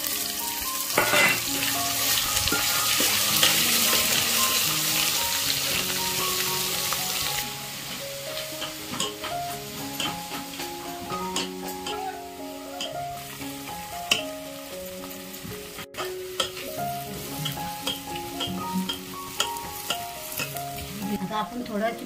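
Ground masala paste for Maharashtrian chicken rassa sizzles and fries in a pan, with steady crackling and frequent scraping stir strokes throughout, close and clear, no talking.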